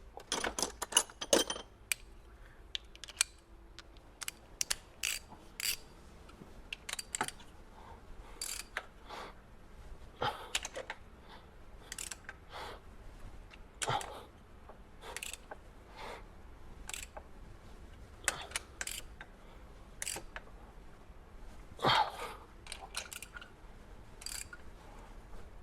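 Bolts on a Hyundai Ioniq motor being rebuilt are tightened with a wrench, giving sparse, crisp metallic clicks and ratcheting ticks scattered irregularly over a quiet workshop background, close by and without speech.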